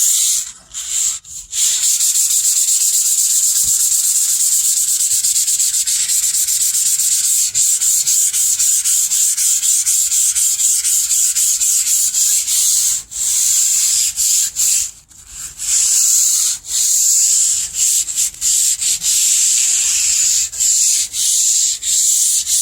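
Someone scuffs down the roof of a 1962 Comet before painting, a loud, close, continuous rasping of abrasive rubbing over metal with brief pauses between strokes.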